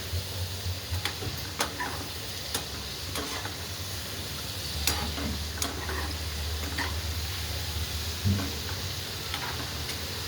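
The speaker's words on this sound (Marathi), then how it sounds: "मस्त असं तळून आपलं व्हायला लागलं आहे थोडा थोडा कलर चेंज व्हायला लागला" Potato finger chips deep frying in hot oil as a fasting snack, a continuous close bubbling sizzle with scattered sharp ticks and light stirring taps throughout.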